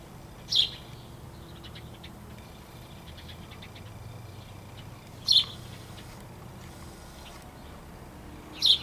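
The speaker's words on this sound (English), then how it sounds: "My crows never bug the songbirds." Songbirds at a backyard arbor feeder give three brief, bright chirps, spaced a few seconds apart over a low steady background hum.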